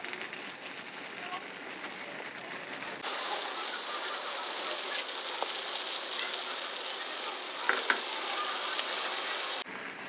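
Shami kebabs frying on low heat in a pan give a steady, soft sizzle and crackle that runs throughout, louder after a few seconds, with occasional small pops and no talking.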